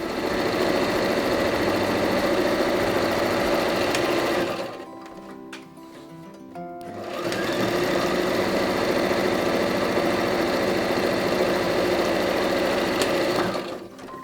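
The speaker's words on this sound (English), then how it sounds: "we now stitch all the way around these curves, leaving these tops open." A sewing machine stitches around the curves of a reversible tote bag, running with a steady, loud mechanical whir. It pauses briefly partway through, then resumes and continues.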